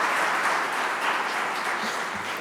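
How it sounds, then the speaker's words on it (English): Audience applause at a sustainability summit keynote, a steady, dense wash of clapping filling the whole stretch at even loudness. "can we give a round of applause for the cute kids who gave us a presentation this morning?"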